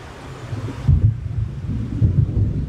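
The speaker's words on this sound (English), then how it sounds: "It seems there's a storm coming." Low thunder rumbles from an approaching storm in a video game. Two rolling swells can be heard over a steady wind and surf-like background, with no speech.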